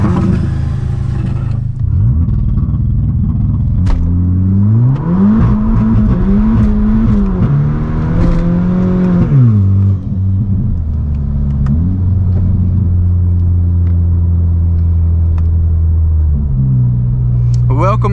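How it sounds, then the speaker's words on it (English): A Stage 3 tuned Volkswagen Polo GTI with a Golf R turbo, recorded at the exhaust: loud, close drone climbing through revs as it accelerates and shifts, settling into a steady rumble between pulls. "you will also hear the sound of this car from the GoPro on the exhaust"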